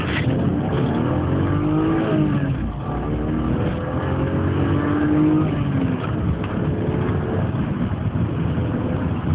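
A BMW 328is E36, thrashed and running a worn engine, accelerates hard in first gear along a long stretch of road, its engine note climbing steadily and loud, heard from inside the car.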